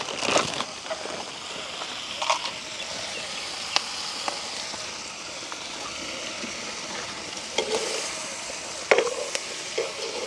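Eggplant and dried squid curry being stirred in a pan, soft sizzling under scattered scrapes and clanks of a spoon against the metal, close and uneven.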